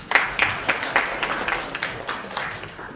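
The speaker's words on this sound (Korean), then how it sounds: "큰 박수 부탁드리겠습니다" Seminar audience at an academic advertising conference giving applause, a modest room of scattered individual claps, distinct and irregular, fading slightly over a few seconds with no speech.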